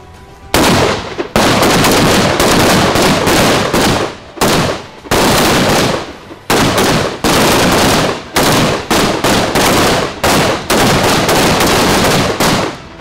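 Soldiers of the Ecuadorian military walk and shoot on a training course, producing loud, near bursts of rapid gunfire broken by short pauses, nearly continuous for the whole stretch.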